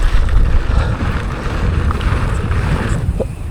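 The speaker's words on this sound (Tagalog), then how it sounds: "At mahangin." Strong wind buffets the microphone while mountain biking on a trail, a loud continuous low rumble that swells and eases without pause.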